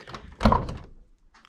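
A single dull thunk of a car door handled at close range, a short solid knock followed by a brief faint rattle, with no talk.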